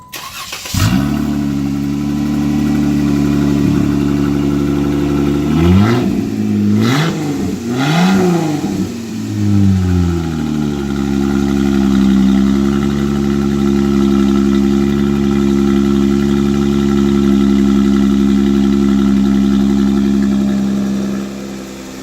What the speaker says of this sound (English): we put a new exhaust, and this remote controls how open I'd like the pipe